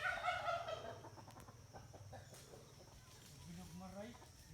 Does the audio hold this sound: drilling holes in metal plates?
no